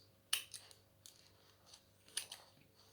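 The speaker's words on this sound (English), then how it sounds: "just put those on the top with my scissors" Kitchen scissors snip cooked chicken pieces onto a salad bowl, two sharp close cuts each followed by softer clicks, faint and otherwise quiet.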